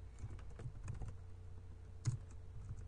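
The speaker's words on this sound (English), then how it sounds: "So if I type in print kite times 3" Typing on a computer keyboard, soft scattered key taps at a quiet, uneven pace with one slightly louder keystroke, heard faintly and close without speech.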